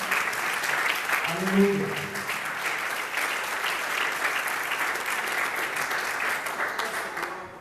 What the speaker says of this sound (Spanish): fuerte el aplauso al Señor en esta hora